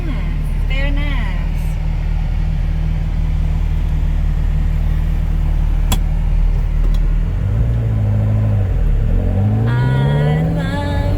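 A 1979 Ferrari 308 GT4 engine drones steadily from inside the car as it drives, with its pitch rising and falling through gear changes near the end. A voice talks over the engine noise.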